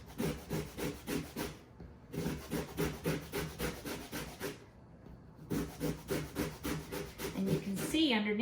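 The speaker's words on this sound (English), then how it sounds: "Microplane grater, that's what I was looking for." A lemon being zested on a Microplane grater gives rapid rhythmic rasping strokes in three bursts with short pauses, close and fairly loud, with no talking.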